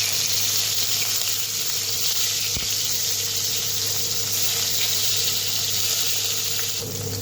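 Paneer pieces fry in hot refined oil in a pan: a continuous, fairly loud hiss and sizzle that holds steady with no speech.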